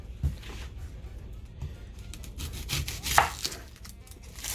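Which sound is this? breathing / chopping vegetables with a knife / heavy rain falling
chopping vegetables with a knife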